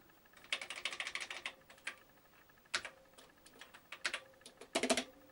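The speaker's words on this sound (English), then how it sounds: "You can see it's ready to type in my address" Close, clicky keystrokes on a full-size Amstrad PCW-8256 keyboard in quick bursts with short pauses, like someone typing a few words at a time.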